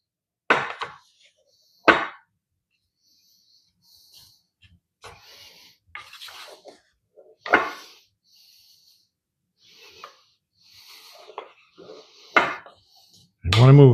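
Grated butter, flour and brown sugar are mixed in a bowl: soft scattered scrapes and knocks of a utensil against the bowl, sparse and close, with a few sharper clunks between quiet gaps.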